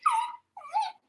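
A dog gives two short, close whimpers in quick succession indoors, each a soft whiny yelp, with quiet between them.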